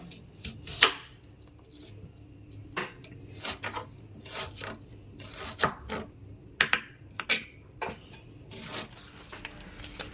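A knife chops onions on a board in irregular bursts of quick, crisp taps, fairly close and moderately quiet, with short pauses between runs.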